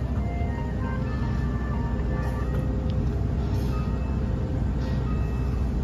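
The KA Malioboro Ekspres economy train departing, a steady rumbling roll of carriages on rails heard from aboard, with faint squeals and knocks over the continuous drone.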